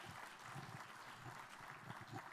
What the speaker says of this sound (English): I really think they need a round of applause.